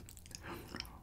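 Crisp crunching bites of Kyochon rice-coated fried chicken, a few close, quiet chews within about a second, with no talking.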